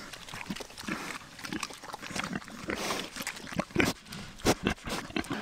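Pigs on a farm that eats fruit scraps, grunting and snuffling in a busy, overlapping clamor with sharper squeals and oinks rising near the end, close and fairly loud.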